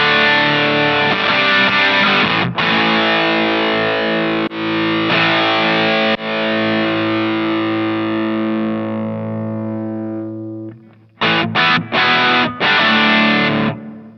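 Electric guitar through an M-Vave MK300 multi-effects unit with its compressor driven hard, loud distorted chords ringing out and slowly decaying, then a few short choppy stabs.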